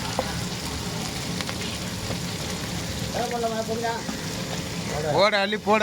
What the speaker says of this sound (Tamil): நறுக்கின வெங்காயம் சேர்த்துக்கலாம்.